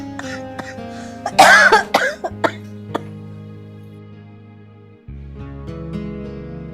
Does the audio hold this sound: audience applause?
no